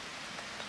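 Light rain patters in the farming game Harvest Moon: Grand Bazaar, a soft, faint, even hiss of drops on its own for under a second.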